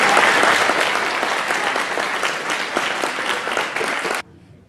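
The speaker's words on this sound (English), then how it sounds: "Let us give a round of applause to Dr. Kawabe for his efforts on school children all over the world." An audience at an Earth Day 2010 event applauds in a dense, steady burst of clapping for about four seconds before it cuts off sharply into near silence.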